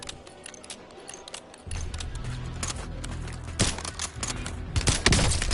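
Gunfire in a Call of Duty video game, a quiet start giving way to bursts of rapid shots and clattering impacts, several louder cracks toward the end, close and without talk.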